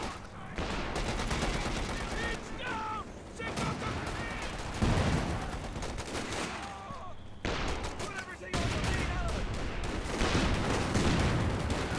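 Indirect artillery fire and gunfire crackle in bursts through a video game battle, with a voice talking over the din throughout.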